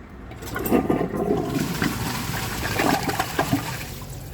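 A 2017 Glacier Bay high-efficiency toilet flushes a washcloth, a strong, close rushing swirl of water that surges and churns steadily for several seconds before beginning to ease, with no voices.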